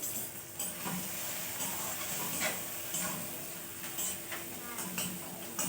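A little ginger frying in hot oil while cooking: a soft sizzle with scattered clicks of stirring, all quiet and partly under a person talking.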